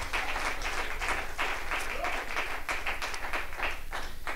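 Congregation applauding in church at an Apostolic assembly, a steady dense wash of many hands clapping throughout, fairly loud and close, with no voices over it.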